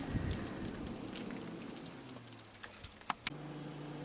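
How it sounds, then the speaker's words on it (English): Heavy morning rain pours steadily in a dense, continuous hiss, with a few louder drips and taps landing nearby toward the end. "it was just rain. But it is very heavy"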